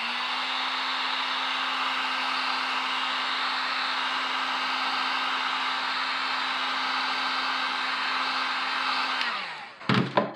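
A heat tool blows hot air over EVA foam, a steady loud whooshing roar that runs unbroken for about nine seconds before it cuts off, followed by a few brief clunks as it is set down.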